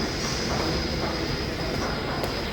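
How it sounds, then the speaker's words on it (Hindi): A Delhi metro station fills with a constant loud rumble and roar of a train, steady throughout, with a faint high squeal briefly rising near the end. "अभी हम मेट्रो स्टेशन पहुँच चुके हैं."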